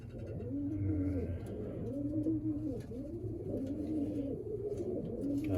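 Racing pigeons back from a 250-mile race out of Onawa, Iowa coo close by in a steady, repeating rhythm of low, rolling calls, with several birds overlapping.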